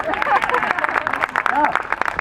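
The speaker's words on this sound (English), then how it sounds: "let's have a nice round of applause for our hair chair tester here" Fairground spectators at a lumberjack show at the Kern County Fair give a short round of clapping, with an amplified voice talking over it.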